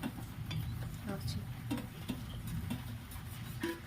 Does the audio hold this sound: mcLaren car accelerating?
no